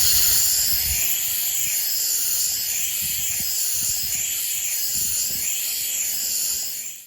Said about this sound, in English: Alright, steam engine test number 2, this time with the addition of a flywheel